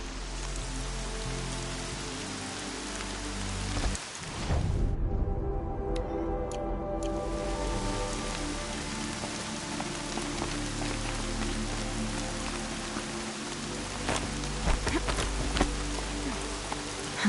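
Steady rain patters across surfaces in a PS4 game, a dense, even hiss of drops with a brief dip in the middle, then scattered louder ticks and splashes near the end, and no voices.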